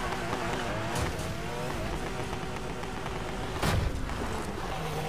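A sports car engine in the Need for Speed racing game hums steadily at moderate level, with a sharp burst of impact or tire noise near the end.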